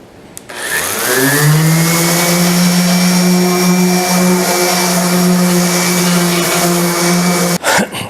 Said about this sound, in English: sand this thing down. I got 220 grit sandpaper here